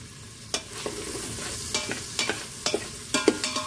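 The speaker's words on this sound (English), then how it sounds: "I need to stir it all up" A utensil stirs chicken tikka masala in an Instant Pot on its sauté setting, with irregular scraping clicks against the pot over a steady, soft background sizzle. The sound is close and moderately loud, and no one speaks.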